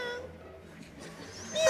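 A comedian vocally imitates a cat's meow, a short mewing cry under a faint background of a live audience, rising louder at the end.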